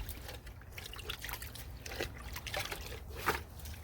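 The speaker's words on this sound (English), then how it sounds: "Again, give them a good rinse." Running water trickles and splashes over soaked luffa sponges during rinsing, a steady close wet dribble with small sloshing bursts, no talk.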